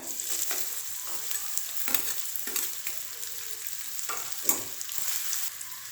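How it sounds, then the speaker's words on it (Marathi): Onions hiss gently in hot oil in a wok while a spatula scrapes and tosses them around every second or so. "आता त्यामध्येच कांदा परतून घेऊया"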